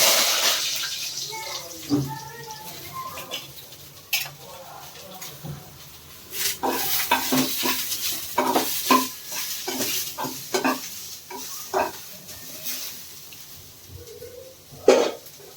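Curry leaves dropped into hot oil for an egg curry, crackling and sizzling with spoon stirring against the pan, uneven bursts of frying noise with a voice talking at times.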